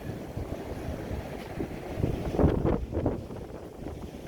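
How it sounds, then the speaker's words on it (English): Ocean waves on a cold Florida morning washing over a bank and draining into small tide pools, a soft rushing wash that swells around the middle with wind noise, no voices. "The waves are coming up over top of that"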